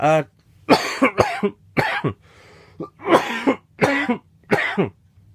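A series of about seven sharp, separate coughs, close and fairly loud, with brief pauses and a faint breath between them.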